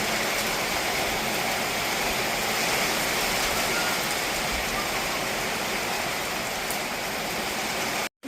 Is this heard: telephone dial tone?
no